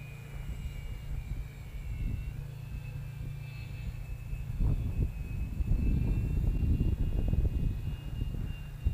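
Twin electric motors on a Lidl RC glider whine at half throttle in flight, a steady thin tone against a wind-buffeted rumble that grows louder and rougher toward the end.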